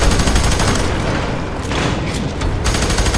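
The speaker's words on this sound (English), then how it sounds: "Let's empty the whole mag on the head." A rapid burst of gunfire in F.E.A.R. 3 as a magazine is emptied, dense and loud, continuous shots blending into a roar with a short pause midway.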